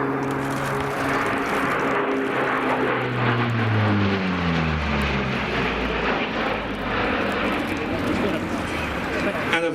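A Royal Norwegian Air Force Lockheed P-3C Orion from 333 Squadron makes a final low pass at an airshow, its turboprop engines roaring loudly and steadily with a falling pitch as it goes by, while an announcer talks over it.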